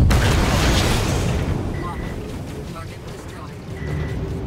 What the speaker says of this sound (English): Try out a missile.